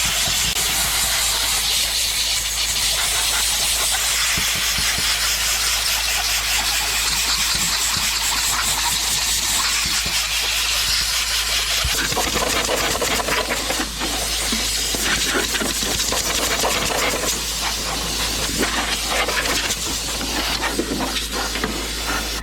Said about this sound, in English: I'm using my wife's Dyson.